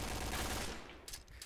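Rapid automatic gunfire in the shooter game Point Blank, a brief dense burst of shots that cuts off, followed by a few sharper clicks.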